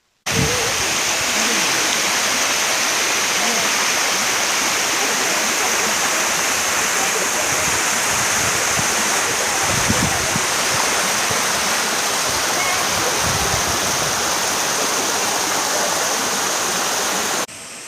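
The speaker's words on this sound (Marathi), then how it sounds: "पावसाचं पाणी ज्यावेळी डोंगर माथ्यावरून धबधब्याच्या रूपात खाली येतं" A monsoon rainwater waterfall pours down from a hilltop at Kanheri Caves, a loud, unbroken roar of rushing water that holds steady and close for the full length before cutting off.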